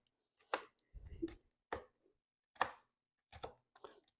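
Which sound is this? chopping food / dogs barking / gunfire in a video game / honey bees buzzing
chopping food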